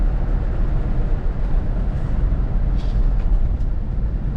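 Road noise inside a 1973 Buick Centurion convertible with a soft top while cruising: a continuous, loud low rumble of tires and drivetrain with mild wind hiss, steady throughout with no talking.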